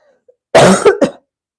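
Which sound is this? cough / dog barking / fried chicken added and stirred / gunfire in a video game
cough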